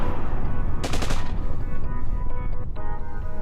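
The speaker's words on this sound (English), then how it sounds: "Explosions, weapons fire of all kind." Explosions and weapons fire of every kind erupt as sound effects during a tabletop roleplaying game, with a dense, loud barrage of rapid gunshots and crashing blasts running continuously, a sharp burst standing out near the start.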